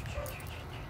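A puppy gives a short, faint whimper and yip, brief and close, under soft room noise.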